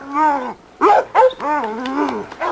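Pistola, a 17-month-old yard dog, gives close, loud whining barks with growly, yowling tones in several bursts.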